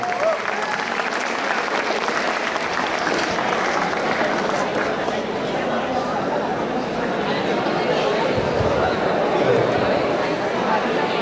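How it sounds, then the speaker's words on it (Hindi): A large audience at a college freshers event breaking into sustained loud applause, dense clapping mixed with crowd chatter and cheering voices throughout. "एक बार जोरदार तालियां सर के लिए।"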